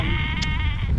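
A ram bleats once, loud and close, on open Dartmoor moorland, a single wavering call lasting about a second with faint wind behind it.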